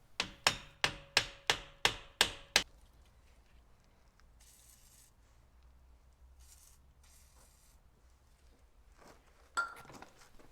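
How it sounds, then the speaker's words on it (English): Eight sharp, evenly spaced metallic hammer blows strike a screwdriver against the wheel hub of a Volkswagen Golf 6 during a front wheel bearing job, followed by quiet workshop clatter and a final clank. "I'm just using a screwdriver and a hammer."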